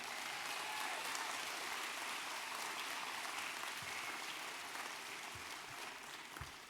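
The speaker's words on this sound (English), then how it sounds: "Let's give Mr. Taylor another round of applause." A commencement ceremony audience applauds the keynote speaker, a broad, even wash of many hands clapping that sounds distant and fairly quiet, sustained throughout with a few low thumps near the end.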